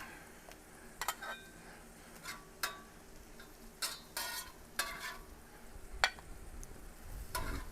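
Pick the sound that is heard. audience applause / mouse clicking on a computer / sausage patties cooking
sausage patties cooking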